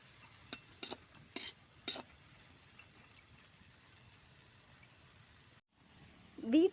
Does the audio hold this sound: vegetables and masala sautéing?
yes